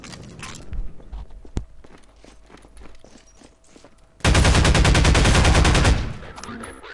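A newly picked-up weapon fires in the Half-Life 2 video game: a loud sustained automatic burst of nearly two seconds follows scattered quieter impacts, footsteps and game noise.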